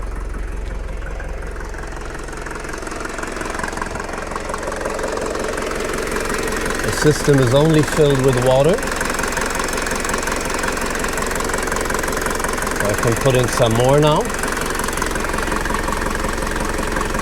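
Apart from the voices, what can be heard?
Mercedes W201 190D diesel engine idling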